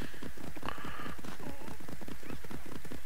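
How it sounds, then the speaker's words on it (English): Horse hooves clip-clopping at a steady riding pace in the Assassin's Creed Odyssey video game, a continuous rhythmic patter of footfalls heard alone with no talking. "If you ride all the way to that marker with your horse like this"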